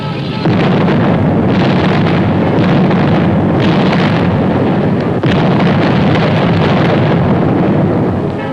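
WWII artillery fire in France, 1944: a sustained, loud rumbling barrage of blasts and booms blending into a continuous roar, with one sharper crack partway through.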